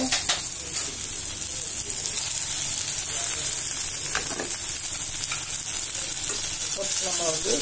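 Paneer and capsicum gravy sautés in a pan with a loud, continuous sizzle and frying crackle, and occasional stirring scrapes sound throughout.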